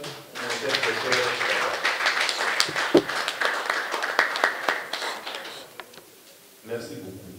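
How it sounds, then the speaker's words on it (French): Audience applause for a professor at a scientific conference on literacy and sustainable development, a scattered mix of claps over steady talking, fading out near the end before a brief burst of voices. "que vous applaudissiez encore mon cher professeur"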